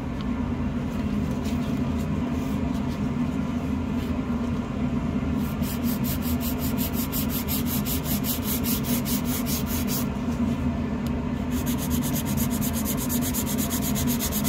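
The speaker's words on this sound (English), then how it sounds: "Let's take out my file. Some filing." Rapid rasping strokes of a nail file on fingernails during a French manicure, fast repeated scraping in bursts over a constant low background hum.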